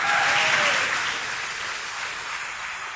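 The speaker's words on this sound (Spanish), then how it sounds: "Denle un aplauso al Señor" A church congregation breaks into loud applause, a thick, bright roar of clapping that starts strong and slowly eases off.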